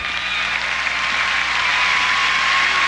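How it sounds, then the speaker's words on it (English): Stadium crowd at a 2001 Purdue at Michigan college football game applauding an injured Michigan right tackle as he rises, a steady distant roar of clapping and cheering filling the open stadium. "And he gets applause."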